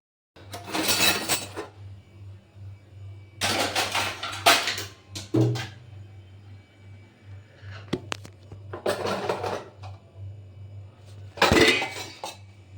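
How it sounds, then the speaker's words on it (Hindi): Freshly washed steel dishes and utensils being stacked away in a home kitchen, several separate bursts of clanking and clinking with pauses between, close and fairly loud, no talk. "दही अच्छे से जम गया था और मैंने बर्तन साफ़ कर दिए थे, तो पहले मैं इन्हें लगाऊंगी।"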